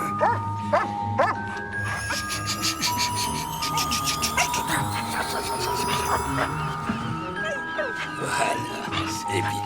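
A dog barks and yips in short repeated bursts among chiming music and speech, moderately close and loud.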